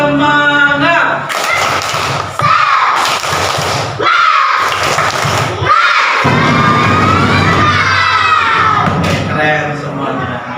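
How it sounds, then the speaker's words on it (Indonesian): Schoolchildren in a classroom answer a teacher's cue with a burst of unison clapping and shouted cheer, loud and close, broken into short rhythmic bursts with a teacher's voice in between. "kalau kompak cukup sekali. Tepuk semangat."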